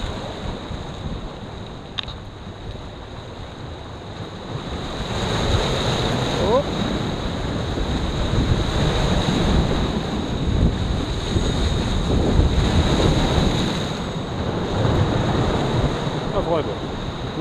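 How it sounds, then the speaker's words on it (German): Stormy Baltic Sea surf and strong wind on the shore, a rough, continuous roar of waves with gusts buffeting the microphone, swelling louder through the middle and easing toward the end. "Wir sind ja extra wegen dem Sturm heute mal hierher gefahren."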